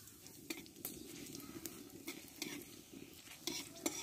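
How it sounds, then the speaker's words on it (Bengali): Dried red chillies and whole cumin seeds sizzle quietly in hot oil, a soft steady crackle with occasional light clicks of a utensil against the pan, faint and close, without speech. "দেখো, এই তেলে দুটো শুকনো লঙ্কা দিয়ে দেবো।"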